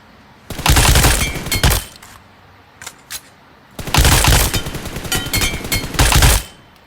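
Gunfire in the mobile battle-royale game PUBG Mobile comes as two long, loud automatic bursts, each lasting about one to two seconds. Between them a few short single shots crack out, close and with no talking.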